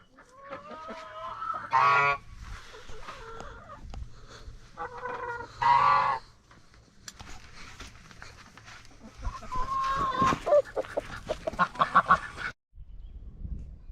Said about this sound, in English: Get out of here, chickens.